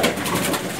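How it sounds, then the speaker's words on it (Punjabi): Pigeon cooing, a soft, low throaty coo from a domestic loft pigeon, steady and close for a brief moment with no talk over it. "ਇੱਕ ਕਬੂਤਰੀ ਆਹ ਦਿਖਾਉਣੀ ਬਾਈ ਜੀ,"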